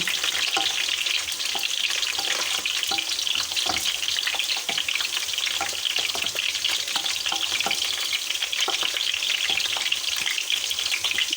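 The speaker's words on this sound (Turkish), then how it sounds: "Kırmızı biber, yeşil biber, soğanımı hemen ilave ediyorum. Güzelce karıştıracağım." Chopped red and green peppers and onion fry in a pan and are stirred, giving a dense, loud, continuous sizzle with frequent scraping taps throughout, no talking.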